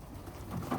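Pigeons near a landing board coo softly, a couple of faint low calls rising near the end over quiet background.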